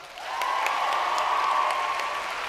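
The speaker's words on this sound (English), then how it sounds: "Can we have a separate and wonderful round of applause for Ellie Slorach?" A round of applause for Ellie Slorach, a sustained, fairly even crowd clapping that swells in quickly and holds steady throughout, with no speech over it.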